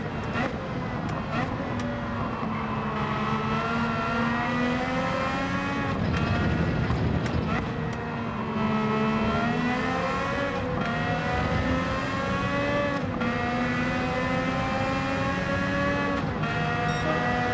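Race car engines in Gran Turismo 7 during lobby racing, a continuous layered whine of several engines rising and falling in pitch as cars approach from behind, with gear changes breaking the drone.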